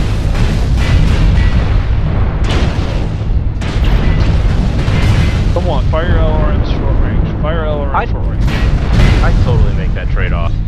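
Long-range missile salvos fire in MechWarrior Online, booming and rumbling loudly in heavy overlapping bursts throughout, with a player's voice talking over the barrage.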